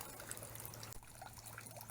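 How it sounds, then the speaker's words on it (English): Thin stream of water trickling from a low-flow ram pump outlet into a 32-ounce cup, a steady close splashing dribble without speech. "there ain't much water coming out of there compared to normal"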